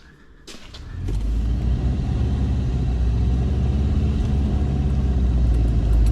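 A Subaru Brumby with a pushrod, horizontally opposed flat engine starts off and pulls away, a low, gruff engine rumble rising quickly after a brief clunk and then holding steady and loud, heard close from inside the car.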